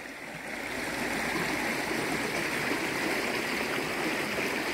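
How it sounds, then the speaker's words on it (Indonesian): A village river flows steadily in late afternoon, a continuous broadband rush of water that stays loud and even throughout with no voices. "aliran sungai yang sangat enak didengar"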